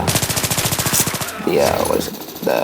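Rapid automatic fire from a PP-19 submachine gun in Battlefield 3, a fast, even burst of close shots lasting over a second, followed by ringing echoes and a brief second burst near the end.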